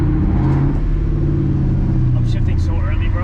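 Straight-piped 2001 Cobra accelerating hard, a loud steady low engine rumble held close throughout, with people talking over it.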